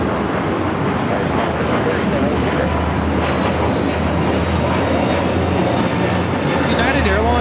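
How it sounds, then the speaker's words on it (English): A United Airlines A321neo jet takes off at LAX bound for Chicago, a continuous loud engine roar with rumbling low end holding steady throughout, speech audible over it. "United Airlines 2737 taking off to Chicago on the A321neo"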